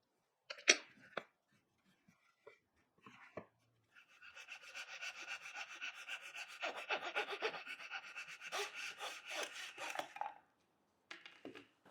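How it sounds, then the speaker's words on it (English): A super-thin Japanese saw cutting through a wooden keepsake box: a few scattered knocks first, then about six seconds of steady rhythmic rasping strokes, close and fairly quiet, ending with a couple of light taps. "this Japanese saw is super thin and will lose next to nothing"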